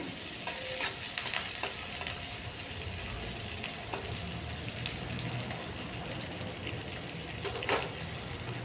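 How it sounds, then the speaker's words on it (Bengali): Coarsely chopped onion and garlic fry gently in mustard oil for a Kerala-style fish dish, a soft continuous sizzle broken by occasional stirring clinks and scrapes, with no talk. "তেলের মধ্যে বড় বড় করে কেটে রাখা পেঁয়াজ আর রসুনগুলো দিয়ে দিলাম। পেঁয়াজ রসুনটাকে একটু হালকা ভেজে নিচ্ছি।"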